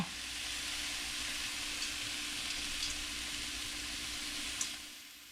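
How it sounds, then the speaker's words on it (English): Lentils being stirred in a pot on the stove, giving a steady close sizzling and frying hiss with faint scraping and a brief clink near the end, no voices. "just giving that a nice big stir"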